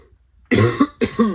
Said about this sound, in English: Sorry for the cough, everybody.